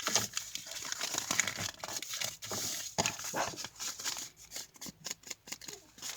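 Paper being folded and crumpled by hand to give it a distressed, vintage look, heard as continuous close crinkling and rustling with a few sharper creases throughout.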